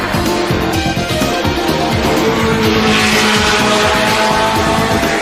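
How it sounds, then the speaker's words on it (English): Race cars at the Le Mans 24-hour race roar loud and close, with engines revving and overlapping continuously, along with hints of tire squeal. "Some say it's the world's most prestigious auto race, more important than Indianapolis or any Grand Prix."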